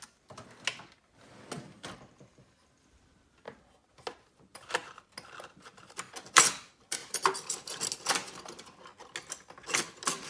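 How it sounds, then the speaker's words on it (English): A razor blade trims leatherette over layered cardboard on a repaired Celestron binocular case. Sparse, dry ticks and scratchy cuts come close to the microphone in irregular bursts, and they grow denser toward the end. "I'm going to dig up a razor blade here and trim that off."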